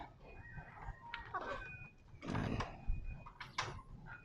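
A rooster makes a few short, soft clucking bursts, faint and close, set apart by quiet gaps.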